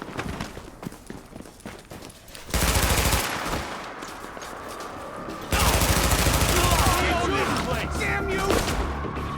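Automatic weapon fire in The Division, set in Brooklyn, rips out in two long, loud, sustained bursts separated by a brief lull, with scattered gameplay noise between them.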